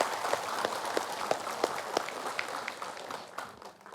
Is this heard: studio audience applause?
yes